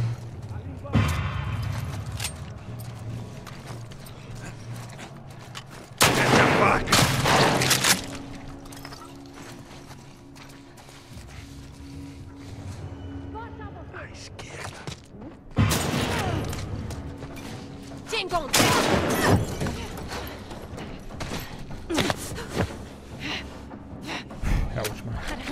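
Gunfire in The Last of Us Part II gameplay, loud bursts of shots in two clusters separated by quieter stretches, mixed with game noise and a player talking over it.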